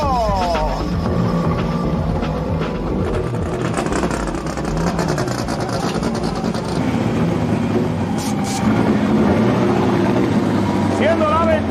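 Drag racing cars at the 1991 ATCO Pan American Nationals roar down the strip in a loud, dense engine blast that swells near the end, with an announcer talking over it throughout.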